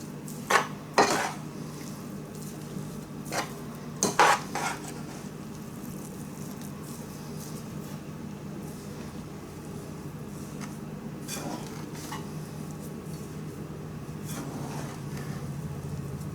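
A spoon scrapes and clinks against a bowl while stirring a pork loin sausage mixture, with a few sharp knocks early on, then softer intermittent scraping over a low steady background hum.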